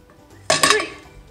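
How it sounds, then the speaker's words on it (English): Pan and utensil clatter as a jiggly Japanese souffle pancake is flipped, one sharp metallic clank followed by a short rattling settle, close and fairly loud. "I don't know if I can flip this properly."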